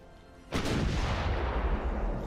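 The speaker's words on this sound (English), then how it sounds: "Let's fire this salvo." A warship's gun salvo fires in the naval video game Ultimate Admiral: Dreadnoughts, a sudden loud booming blast that rolls straight into a sustained, rumbling roar lasting a couple of seconds.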